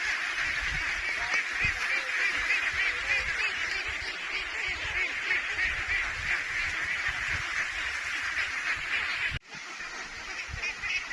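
A flock of domestic ducks being slowly driven across a new pasture, a dense continuous chorus of honking quacks throughout, close and loud, with a brief dropout near the end.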